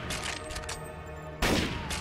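Rapid gunfire in NecroVision, a first-person shooter: a quick burst of closely spaced shots over game noise, then a louder, harsher blast of fire near the end of the brief moment.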